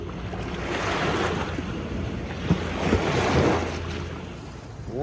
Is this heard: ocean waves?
yes